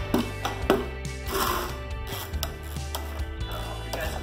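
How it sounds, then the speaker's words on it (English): Metal ratcheting and clicking from a 13mm wrench tightening an axle nut on a Peg Perego Gator ride-on toy vehicle, with short repeated ratchet strokes over a steady low hum, close and fairly quiet. "And then I just tighten up the front side."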